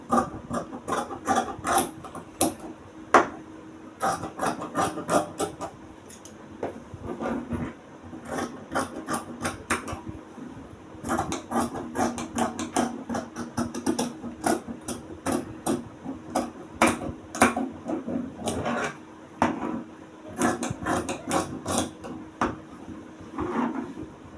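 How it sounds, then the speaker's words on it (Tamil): Scissors cut blouse fabric for a 33-inch blouse with repeated crisp snips and clicks in quick clusters, separated by brief pauses as the blades reopen. "இப்போ இதை நான் எப்படி கட் பண்ணுறேங்கிறத பாருங்கள்"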